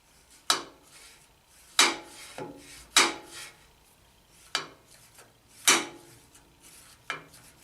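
Jointer knife blades honed in place on the 600 grit side of a sharpening tool: six distinct scraping strokes, each a sharp rasping swipe that fades quickly, spaced about a second or more apart and heard up close.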